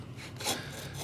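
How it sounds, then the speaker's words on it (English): Card scraper drawn across pine wood, giving a soft, dry rasping scrape with one slightly stronger stroke midway, faint and close with no talk. "I just scraped it down a little bit with a card scraper."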